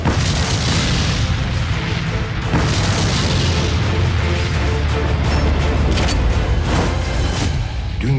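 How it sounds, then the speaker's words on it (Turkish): A bomb explodes in a Turkish TV series trailer, a loud sustained booming blast with layered crashes and rumble running through the whole stretch, with dramatic score underneath. "Bomba atar!"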